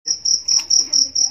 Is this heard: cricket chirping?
yes